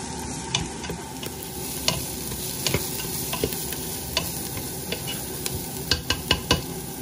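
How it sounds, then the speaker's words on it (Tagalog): Onions sizzle steadily as they sauté in a pan for chicken tinola, with scattered sharp clicks and scrapes from stirring above the constant frying hiss. "Gisa-gisa sibuyas"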